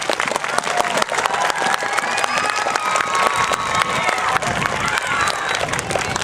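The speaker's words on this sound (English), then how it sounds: "let's give our community a great big round of applause" Crowd applause and cheering with children's shouts at an intermediate school groundbreaking ceremony, loud and sustained throughout, with whoops and high voices rising over the clapping.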